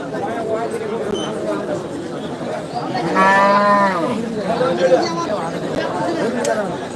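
A cow gives a loud, drawn-out moo amid a busy crowd at a cattle market in Kaharol, Bangladesh, with chatter and voices all around.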